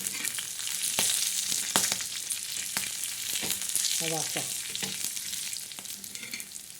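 Garlic frying in dark roasted black masala in a pan, a steady close sizzle with stirring scrapes and occasional utensil knocks.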